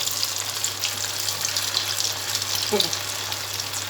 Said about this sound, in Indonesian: Tinggal goreng ini. Anak aku ini karagenya tinggal digorengin kayak gitu.